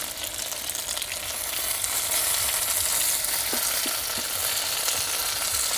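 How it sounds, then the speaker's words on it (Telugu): Eggplants with onion-chili masala fry over low heat in a pan, a loud steady sizzle up close with occasional scrapes and taps of stirring. "ఈ వంకాయలన్నీ అందులో కలిసేలా బాగా తిప్పుకుందాం"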